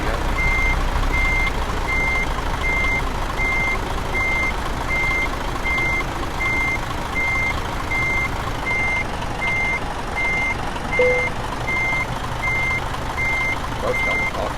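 Truck reversing beeper in Euro Truck Simulator 2 sounds a steady, evenly spaced series of short high beeps throughout, over a constant low engine rumble.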